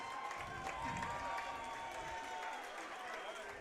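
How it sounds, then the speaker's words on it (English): A crowd applauds two grappling fighters after a submission bout at a SUBVERSIV championship event, with moderate, fairly distant clapping and murmuring holding steady throughout. "let's give these two warriors one more round of applause"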